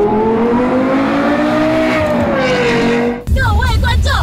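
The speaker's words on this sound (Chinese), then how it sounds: "各位观众，全油门大放送 ，LFA 美丽的声浪，天使的咆哮来喽！" A Lexus LFA sports car, carrying a specially tuned carbon-fibre setup, screams at full throttle in one long, loud, high-pitched rising wail that cuts off sharply before a brief burst of excited shouting and chatter.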